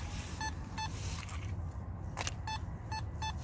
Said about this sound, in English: So I'll check this with the detector.